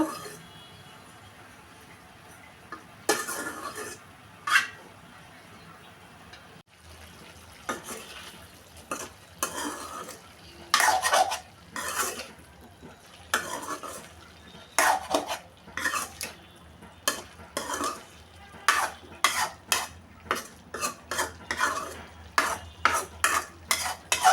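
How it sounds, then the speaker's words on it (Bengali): Spices and a little water being stirred into data stems in a pan, with repeated sharp scrapes and clinks of a spoon against the metal in an uneven rhythm over a soft sizzle, close and clear. "দিয়ে দিলাম লবণ হলুদ মরিচ দিয়ে দিচ্ছি একটু জল আর একটু কষিয়ে নিব"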